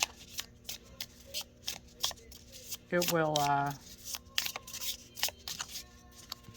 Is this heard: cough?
no